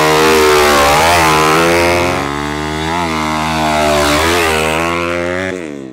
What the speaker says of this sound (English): He'll start the bike, he'll pull the clutch in